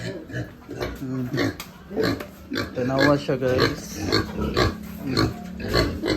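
Pig grunts and snorts come in bursts under nearby talking, with steady low farmyard noise throughout.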